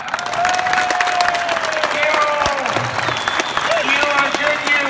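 A big arena crowd at Tierp Arena claps and cheers in a loud, sustained roar, while a voice carries over the applause and scattered whistles and calls rise from the stands.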